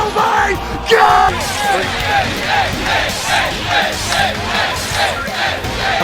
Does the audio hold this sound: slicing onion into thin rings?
no